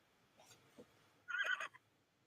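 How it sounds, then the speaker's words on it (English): A horse neighs once, a short bright whinny rising out of near silence after a couple of faint soft sounds. "That was the sound of a horse."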